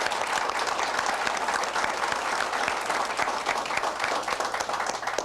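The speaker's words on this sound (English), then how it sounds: "I think all of us ought to give them a round of applause" Audience applause at a political workshop, a dense burst of many hands clapping, loud and sustained from start to finish before tapering at the end.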